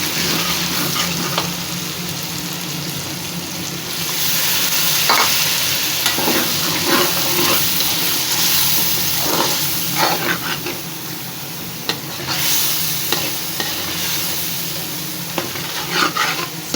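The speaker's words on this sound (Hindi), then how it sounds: "इस मसाले को भी अच्छी तरह भून लेंगे।" Red chilli, crushed chilli, cumin and coriander masala sizzles in a pan for dhaba-style dal, with a steady frying hiss broken by repeated scraping stirs of a spoon.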